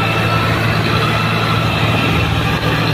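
Heavy diesel engines of a Swaraj 855 and a Mahindra 585 tractor running hard side by side in a race, a steady loud low rumble with constant harmonic drone and no talk.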